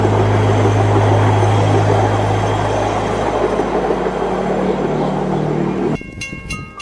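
An Amtrak train roars through snow drifts at 80 miles per hour with a loud, steady rushing rumble that drops off suddenly near the end, leaving a quieter scraping clatter.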